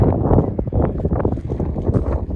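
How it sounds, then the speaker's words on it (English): Strong wind on open hills buffets the microphone in a loud, low, continuous roar with gusty swells throughout and no voices. "It's a little bit windy up here"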